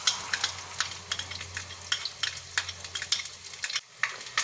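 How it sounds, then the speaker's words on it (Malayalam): Coconut pieces roasting in ghee in a pan sizzle steadily up close, with frequent crackling pops and spatula stirring scrapes in an uneven rhythm, briefly dipping quieter near the end; no talking. "ഇനി ഒരു പാനിലോട്ട് നെയ്യ് ഒഴിച്ച് ചൂടാകുമ്പോൾ അതിലോട്ട് എടുത്തു വെച്ച തേങ്ങാക്കൊത്ത് ചേർത്ത് റോസ്റ്റ് ചെയ്തെടുക്കാം."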